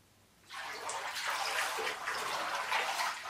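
Water sloshes and swirls steadily in a bathtub as bath oil is stirred through it, a close, continuous watery wash that starts abruptly after a brief quiet moment and carries on without talk.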